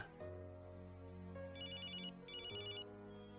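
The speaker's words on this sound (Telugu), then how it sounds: "ఫోన్ చూడు." A phone rings with repeated electronic ringtone bursts over a film scene's background music. The ringing is clear and moderately loud, with no speech during it.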